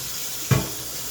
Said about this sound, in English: We're gonna wash this pan.